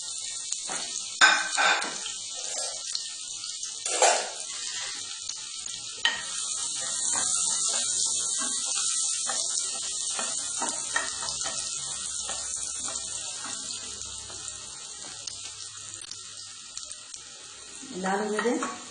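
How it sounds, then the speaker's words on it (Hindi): Onions drop into hot oil and fry with a steady bright sizzle, with a few stirring clatters and someone speaking briefly near the start and end. "मेरा ये ऑयल थोड़ा गर्म हो गया है। अब मैं इसमें प्याज डाल दूंगी।"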